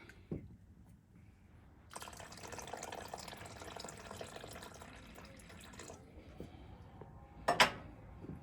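Pineapple juice pours from a can into a tequila marinade mixture, a steady liquid stream running for several seconds, then stopping, followed by a brief clink near the end.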